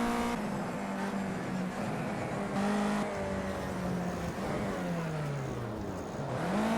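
Race car engine in Project Cars 2 during a spin in front of the field, a loud continuous engine drone whose pitch rises and falls as it revs, with engine noise from other cars around it.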